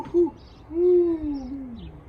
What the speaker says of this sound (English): The sound of a great horned owl.